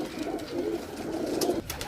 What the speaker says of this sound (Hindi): बहुत अच्छा कबूतर है, बहुत।